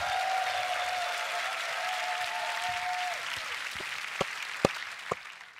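Audience applause at the GBB23 World League beatbox crew elimination: a dense wash of clapping and crowd noise that slowly thins out, leaving a few distinct, sharp handclaps at the end.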